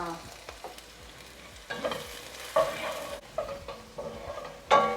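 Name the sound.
spring onions and garlic stirred while frying in pan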